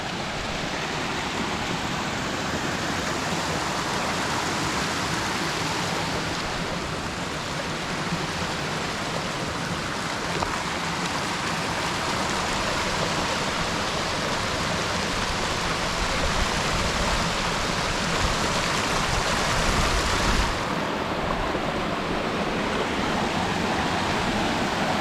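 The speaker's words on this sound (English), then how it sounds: "Check out this beauty of a waterfall" A waterfall beside the trail up Mt San Jacinto via Deer Spring gives a steady, loud, close rush of pouring water that runs unbroken for the whole stretch.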